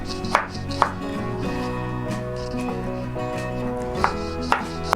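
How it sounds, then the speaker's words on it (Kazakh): Pickled cucumbers being sliced on a cutting board for a Kazakh rassolnik soup, with a few sharp knife strikes standing out over a steady background hum and a faint voice. "Тұздалған қиярды да көбіктеп тураймыз."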